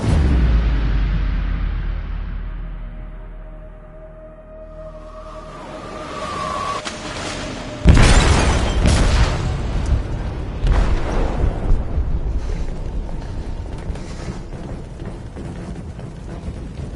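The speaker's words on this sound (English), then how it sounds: "They detonated an explosive in the hold." A ship's hold is blown apart by a detonated explosive in Detroit Become Human, a deep loud boom followed by a long rumbling roar of debris and creaking metal after a quieter, tense lead-in.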